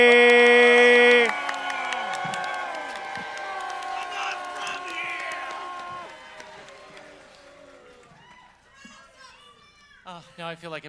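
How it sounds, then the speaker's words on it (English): A convention audience at Hal-Con 2017 boos loudly in a dense crowd roar that starts strong, then tails off into scattered voices and a few sharp calls. "Thanks for the booing."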